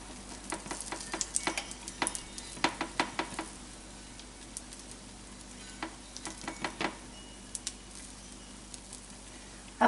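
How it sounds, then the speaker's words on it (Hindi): Mango appe fry in ghee in an appe pan, giving a faint, steady sizzle broken by frequent small crackles and pops. The pops come in uneven bursts, close by, with no voices. "इनकी साइड चेंज करने से पहले हम इन पे हल्का हल्का घी लगा लेंगे।"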